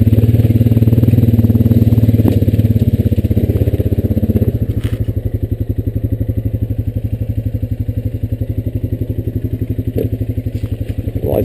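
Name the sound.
Honda Rancher 420AT four-wheeler driving along a wooded path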